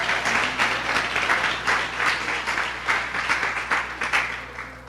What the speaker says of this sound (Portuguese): Dá uma salva de palmas aí para o Senhor.